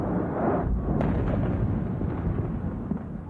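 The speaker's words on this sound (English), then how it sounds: "You could hear a rumble and an explosion" The impact of a hijacked airliner, United Airlines Flight 175, striking the South Tower of the World Trade Center gives a sustained, heavy rumbling blast that holds steady and slowly fades over a few seconds.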